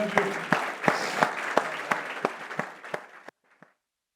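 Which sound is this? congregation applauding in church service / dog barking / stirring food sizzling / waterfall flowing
congregation applauding in church service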